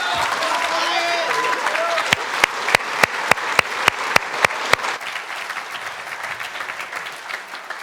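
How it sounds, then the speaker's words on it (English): Audience applause for students at an award ceremony in a Baptist church, a sustained wash of clapping with a run of sharp, evenly spaced claps standing out in the middle before it tapers. "Let's give these students a round of applause."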